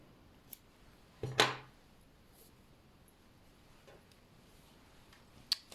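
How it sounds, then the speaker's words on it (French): Scissors snip crochet yarn in a single quick, close cut, followed by a few faint ticks and small handling clicks in a quiet room. "Une maille en l'air et on peut couper le fil."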